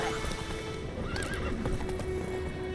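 Roach, a horse in the Witcher 3 video game, gallops with rapid clip-clop hoofbeats and lets out a short neigh partway through, over steady background game sound.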